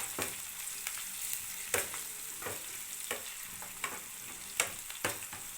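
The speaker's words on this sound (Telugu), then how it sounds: "నెక్స్ట్ పసుపు మొత్తం బాగా కలపండి" Radish fry with turmeric and garlic paste being stirred in a pan, with soft, steady sizzling broken by a series of sharp scraping clicks from the spoon against the pan.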